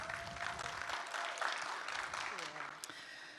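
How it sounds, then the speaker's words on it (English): Audience at a SXSW 2023 session applauding a guest, scattered clapping that thins and tapers off as a voice begins speaking over it. "let's all give her a round of applause"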